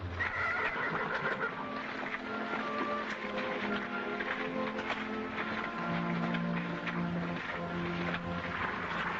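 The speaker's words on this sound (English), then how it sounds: "Bye, horsey." A horse whinnies amid a busy old-West scene, with a steady bed of background sound and a few brief tonal calls; clip-clopping hooves are not clearly distinct.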